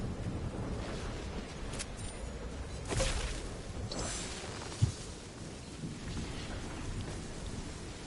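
A storm in the Fortnite video game, with steady rain hiss throughout and rumbling thunder swelling near the start and middle, plus a brief sharp tick, all without talk.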